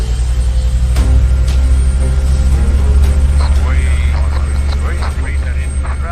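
Helicopter carrying a chest trauma patient, heard from inside the cabin as a loud, steady low rotor and engine drone throughout, with crew voices talking over it.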